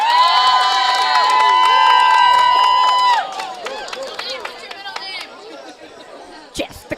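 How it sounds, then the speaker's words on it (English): Lively tennis crowd at a women's final of an invitational event in Short Hills, cheering and chattering loudly with high excited shouts, then settling into scattered claps and murmur as the noise drops midway. "you can hear that crowd get fired up"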